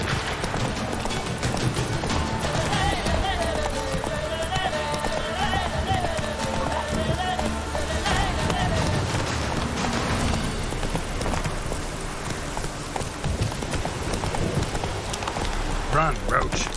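Rain falls steadily in The Witcher 3 as a constant hiss under galloping hoofbeats. Someone talks throughout.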